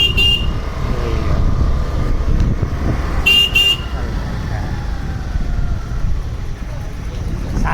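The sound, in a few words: riding a Honda Activa scooter in traffic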